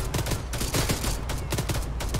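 Heavy gunfire in the video game Arma 3, with loud rapid bursts of close automatic shots repeating in quick succession and no break.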